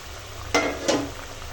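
Raw hilsa fish rubbed with salt and turmeric going into a pan with cooked potatoes: two short bursts of sizzling close by, each fading quickly over a quiet background.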